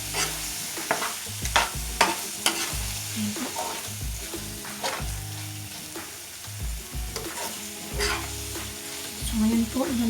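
Mushrooms sizzle in a frying pan for tuna pasta while a utensil stirs them, giving repeated scraping strokes over a steady close sizzle.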